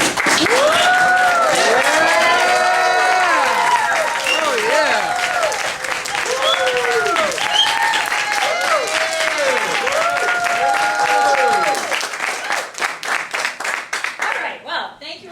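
Audience applause and cheering at a campaign event for a Chicago Public Schools union presidential candidate, sustained loud clapping with voices and pitched whoops over a dense crowd wash that tapers into scattered claps near the end.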